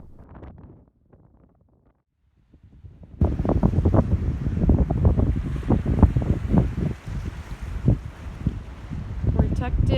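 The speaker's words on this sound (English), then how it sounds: "Listen to this crazy wind." Strong wind gusts roar and buffet a boat anchored in the lee of high land off a Greek island, loud and continuous after a brief quiet start, with water sloshing faintly beneath.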